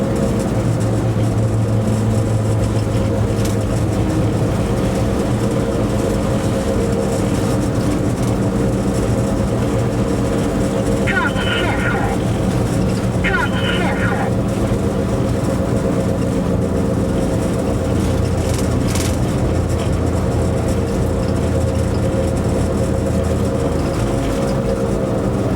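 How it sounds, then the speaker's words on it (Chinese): A train on the Peking–Kalgan line slowing to a stop at Qinglongqiao station, a loud continuous low rumble of wheels and machinery with a couple of brief squeals of brakes mid-way. "列车很快就会停车。"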